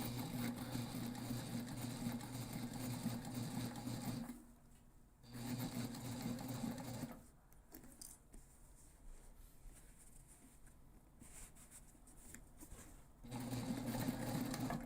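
A sewing machine stitches a Passenger backpack in quiet, steady bursts of fast mechanical whirring, stopping briefly twice for pauses of near silence before starting up again.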